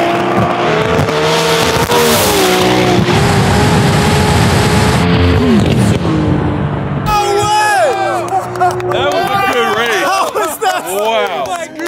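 An 1100hp 2JZ-powered Polaris RZR UTV drag races a 1400hp all-wheel-drive Mustang, with loud engines screaming and revving close by, a brief drop-off, then tire squeal and a renewed roar over crowd noise.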